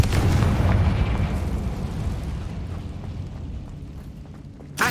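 Confringo spell explosions from the video game Hogwarts Legacy: a loud booming blast at the start that rumbles and fades over several seconds, ending with a brief sharp burst.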